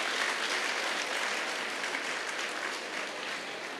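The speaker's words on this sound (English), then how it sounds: "I think that deserves applause." A school audience at an annual celebration applauds a student's top class 10 exam result with dense, steady clapping from many hands that carries evenly through the whole moment with no talk.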